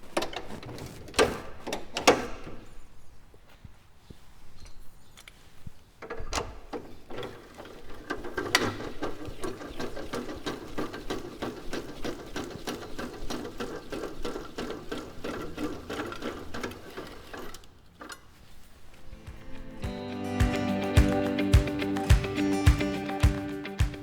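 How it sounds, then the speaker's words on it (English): A stabilizer leg on a corner of a BunduTrail camping trailer is lowered. A mechanical whirring and ratcheting runs steadily with a couple of short pauses, close and clear, with no talking. "On each corner of the BunduTrail we've got a stabilizer leg, and this is to stabilize and level the trailer."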